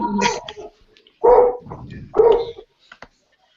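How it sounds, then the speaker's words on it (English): A dog barks in a few loud, separate bursts, close by, with short gaps of quiet between them and a faint yip near the end. "There is a dog."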